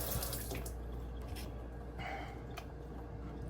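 A tap runs water during hair care, a soft steady splashing flow with a low hum underneath, faint and continuous.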